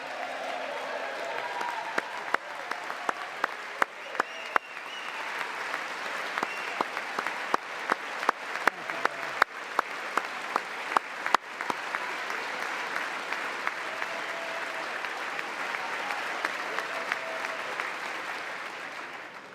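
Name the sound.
audience applause and cheering at a speech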